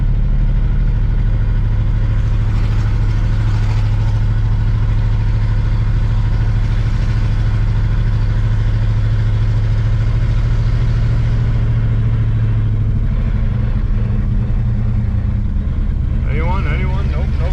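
A 1970 Pontiac Grand Prix with a four-speed drives uphill in first gear, its engine rumbling loudly and steadily with a deep low drone that shifts near the end. Voices talk faintly underneath.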